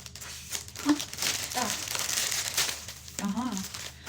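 A plastic packet of balloons is crinkled and torn open close by, with soft rustling and crackling throughout while someone speaks quietly over it.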